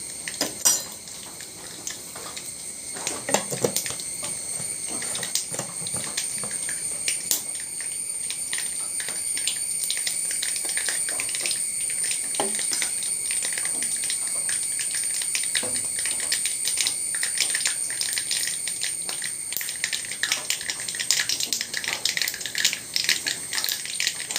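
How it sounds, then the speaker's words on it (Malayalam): Mustard seeds splutter in hot coconut oil with a little urad dal, giving a dense, continuous crackle of sharp pops close by that grows busier toward the end, with no talking. "കടുക് പൊട്ടട്ടെ."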